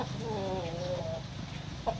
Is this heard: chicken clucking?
yes